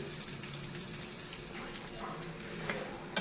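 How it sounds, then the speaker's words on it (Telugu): Dried fish frying in a pan, a steady close sizzle with faint water-like crackle running throughout, no voices. "ఎండు చేపలు బాగా క్లీన్ చేసుకుని ఇలా అయితే వేపేసుకోవాలి"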